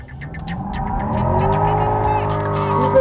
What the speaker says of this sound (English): here's some more cool shots of it doing burnouts